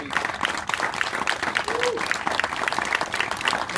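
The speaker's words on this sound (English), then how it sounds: "Let's applaud all these people." A community gathering audience applauds, a dense, even patter of many hands clapping at moderate level throughout, with faint voices mixed in.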